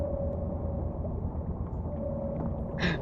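A vertical engine in a video game runs as a steady, dense rumbling drone with a faint tonal whine, continuous and fairly close, with a brief higher squeal near the end and no speech.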